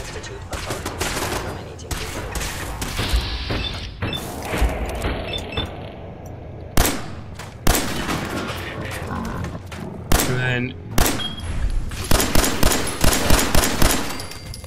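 Fallout 4 combat gunfire: repeated automatic bursts and single sharp shots, loud and close, in clusters with short pauses, thickening into rapid firing toward the end.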